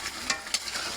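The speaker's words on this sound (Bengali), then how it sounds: "হালকা নেড়ে দিচ্ছি" Food being stirred in a pot on a clay stove, chicken with elephant foot yam cooking, gives a soft continuous scraping with a sizzle and two brief louder scrapes, close and quiet.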